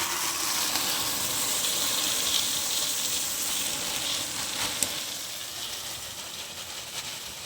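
Puffed rice (mamra) tipped into a hot oil tempering in a pan, giving a steady, close hiss of sizzling with faint stirring scrapes and no talk.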